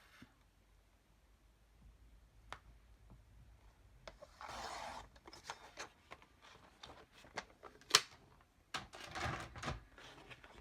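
Card stock for a vintage mini album is cut in half, giving quiet, close scraping and rasping strokes with a few sharp clicks, spread irregularly over a fairly quiet background.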